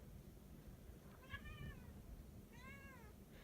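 A cat meows twice, two short, fairly faint calls about a second apart, over a low indoor background with no talking.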